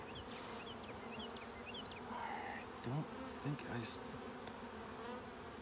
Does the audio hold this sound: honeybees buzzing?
yes